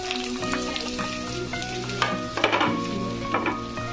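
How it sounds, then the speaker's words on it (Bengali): Peas, cashews, raisins, carrot and capsicum fry in ghee with a steady close sizzle, while a utensil stirs and scrapes against the pan in irregular clinks throughout. "ঘিয়ে দিয়ে আমি ভেজে নেব এগুলিকে।"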